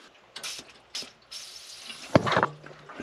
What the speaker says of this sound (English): so you can hear a little bit of air rattling through